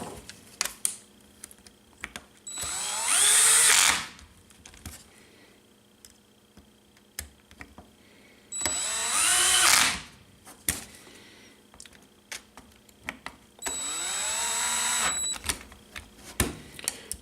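Screws tightened one after another while assembling the frame of a Trex 500X RC helicopter. Three separate whirring runs from a small driver, each about a second and a half long, are spaced between quiet stretches with faint clicks and handling noises.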